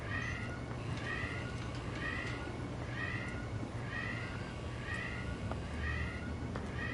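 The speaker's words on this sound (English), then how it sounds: "You hear that klaxon alarm sound?" A klaxon alarm in The Outer Worlds 2 wails in regular rising cycles, a warbling tone sounding over steady noisy background.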